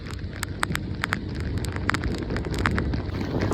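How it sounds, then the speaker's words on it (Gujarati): Heavy rain on a highway, a constant rushing wash with scattered sharp drop impacts and ticks on top, fairly faint and without speech. "ફૂલ વરસાદ છે અને ફૂલ આગાહીના કારણે ફૂલ વરસાદ, વીજળી બધું થાય છે."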